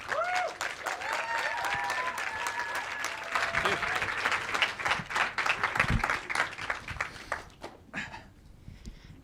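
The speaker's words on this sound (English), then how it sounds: "Please give them a round of applause." Audience applause at a festival stage event, a sustained round of clapping with a few brief cheers or voices mixed in early, fading out toward the end.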